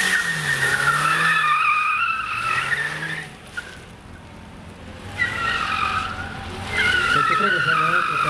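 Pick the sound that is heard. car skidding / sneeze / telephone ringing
car skidding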